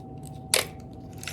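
A strip of tape pulled quickly off its roll during a paper-tube craft, one short sharp rip standing out above a quiet hum with soft handling noises around it.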